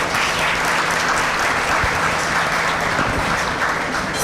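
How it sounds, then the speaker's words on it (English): An audience at a county luncheon program applauds steadily, a dense wash of clapping that holds at an even level throughout. "let's get them a hand clap"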